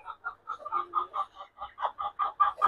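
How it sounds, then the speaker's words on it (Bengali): A Colombian Brahma rooster kept in a warm pen with a fan running clucks in a steady series of short, evenly spaced calls, close and fairly loud, with no voices. "খুবই সুন্দর একটা মোরগ"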